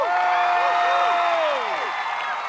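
An audience at The Wall Song Thailand applauds and cheers for a performer, steady clapping under high, sustained screams and cheering voices, loud and continuous before tapering slightly.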